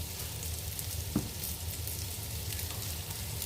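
Tomato paste fries in a pan among cooked meat, potato and eggplant, giving a steady close sizzle with faint crackles and a light stirring scrape, without any talk.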